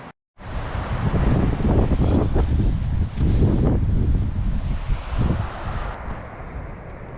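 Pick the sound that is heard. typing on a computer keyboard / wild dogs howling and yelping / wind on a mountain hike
wind on a mountain hike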